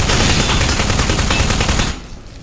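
A rapid-fire gun blasts in the game Aperture Desk Job, a loud, dense stream of shots lasting about two seconds, then cutting off abruptly into quieter room noise.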